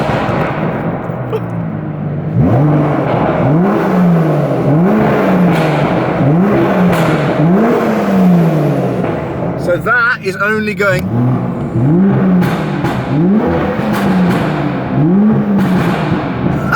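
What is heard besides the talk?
Aston Martin DBS Superleggera engine revving in Sport Plus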